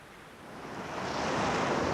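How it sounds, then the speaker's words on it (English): Huge waves crash during a storm at sea, a faint, steady wash of surf that swells slightly over two seconds, with no voices. "The ships rocked up and down on huge waves which crashed onto their decks."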